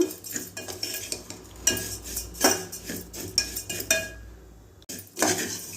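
Semiya vermicelli is roasted in a pan until reddish for payasa, with close, irregular scraping and clinking of a spoon against the metal and brief pauses between strokes.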